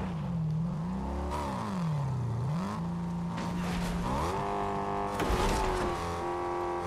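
A vehicle boosting in Fortnite, its engine revving up and down in changing pitch with tire squeal and impacts, loud and continuous.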